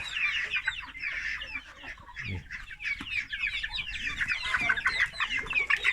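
Several hens cluck and chatter continuously nearby, overlapping calls with occasional louder squawks.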